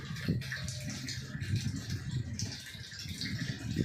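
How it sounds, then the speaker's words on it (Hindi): Water pours steadily into a rooftop storage tank nearing full, a continuous close rushing and splashing with a faint rattle, carrying on evenly throughout. "देखो अभी आ रहा है पानी। अब ये टंकी थोड़ी सी रह गई भरने के लिए"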